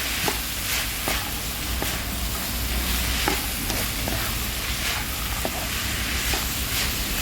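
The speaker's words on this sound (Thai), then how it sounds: "เราก็จะเอาแครอทใส่ลงไปค่ะ ผัดต่อไปค่ะ" Carrots are stir-fried in a hot pan for Thai ruea-style noodles, giving a loud, steady sizzle broken by irregular scrapes and clacks of stirring, with no speech.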